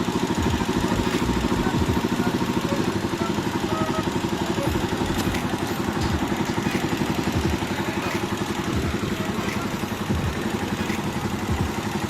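A Rusi Macho 175 motorcycle engine, just fitted with an oil cooler, runs steadily at idle close by, a continuous mechanical chug and rattle with no pauses and no talking over it.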